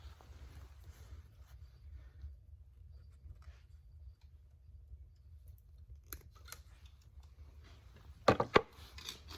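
Scissors snip a length of string while setting up a wooden frame, a couple of sharp close cuts near the end after a quiet stretch of low background rumble.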